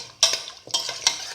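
A spoon stirs a chickpea fritter mixture in a pot, giving four sharp scraping strokes in a quick uneven rhythm, close and fairly loud with no talk.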